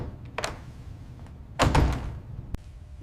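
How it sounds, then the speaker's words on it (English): A door slams shut in a hotel hallway with one loud heavy thud, then a short sharp click of the lock, set against a faint room hum and softer earlier knocks. "The door slammed shut behind me and locked."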